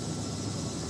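A Robinson R66 helicopter flies in a flight simulator game, giving a brief, steady wash of rotor and turbine noise at moderate level.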